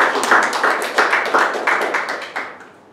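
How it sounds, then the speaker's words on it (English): A small group claps briefly and steadily for about three seconds before the applause tapers off. "I think we have to give a big round of applause."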